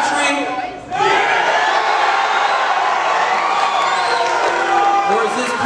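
A Texas crowd at a Jake Paul versus Nate Diaz press conference cheers and whoops loudly and steadily, with a brief dip before a sustained roar of many voices that holds through to the end.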